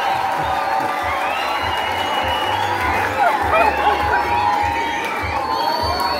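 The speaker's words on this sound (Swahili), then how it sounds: "Wapigie makofi." Crowd noise with cheering and clapping from a wedding gathering in Makuyu, Murang'a, children's shouts and voices mixed in, sustained and fairly loud throughout.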